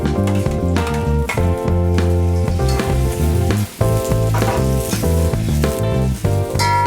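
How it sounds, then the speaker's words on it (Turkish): Chopped onions sizzle and fry in hot oil in a pan, a steady hiss running beneath loud background music with a strong beat. "Soğanımızı güzel bir şekilde kavuruyoruz."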